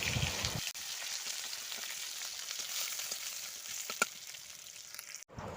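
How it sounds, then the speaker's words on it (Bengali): Onion fries in oil with a bay leaf while being stirred, a continuous soft sizzle with a sharp utensil tap near the end; quiet and close, no voices. "এবার পেঁয়াজটাকে দেখো একটু নাড়াচাড়া করে ভেজে নেব"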